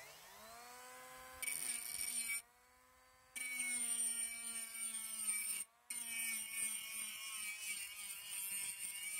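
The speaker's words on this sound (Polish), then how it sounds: "Szlifujemy sobie taki płaskownik za pomocą właśnie tej specjalnej tarczy do szlifowania." A Parkside PWSA 12 B1 cordless grinder with a special grinding disc works a flat steel bar, giving a steady high-pitched whine and rasp that stops briefly twice and restarts, loud and close, with no talking.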